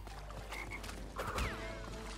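Frog croaking in the Crash Bandicoot N. Sane Trilogy video game, a short warbling croak over steady game music and effects, fairly quiet, with no talking.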